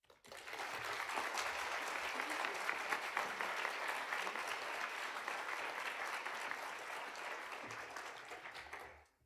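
An audience at a Founders' Day convocation claps steadily to welcome a police chief and assistant chief, a full sustained round of applause that swells quickly and dies away at the end.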